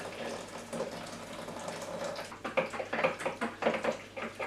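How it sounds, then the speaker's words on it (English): About three quarters of a pint of water is poured over a stock cube in a jug for Cullen skink: a soft run of liquid, then rougher gurgling splashes toward the end, close and moderate. "we're going to pour about 3/4 of a pint of water in here"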